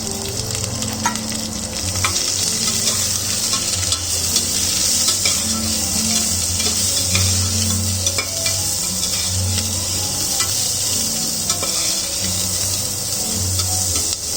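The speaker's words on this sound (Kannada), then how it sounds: "ಒಂದು 2 ಈರುಳ್ಳಿ ಕಟ್ ಮಾಡಿಟ್ಕೊಂಡಿರೋದು ಹಾಕ್ತಾ ಇದ್ದೀನಿ" Chopped onions hit a hot pan already holding fried fenugreek leaves and sizzle loudly and steadily, with occasional stirring clinks and scrapes over fourteen seconds.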